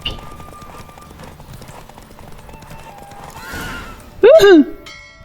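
Horse hooves clop at a steady pace in The Witcher 3, building toward a loud, close neigh that rises and falls near the end, over a quiet game backdrop.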